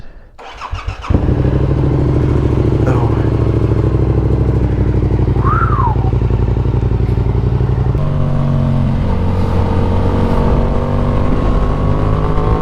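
A Kawasaki Ninja motorcycle, a 400 or 500, cold-starts and settles into a loud, steady idle close to the microphone, with a brief rev rising and falling partway through.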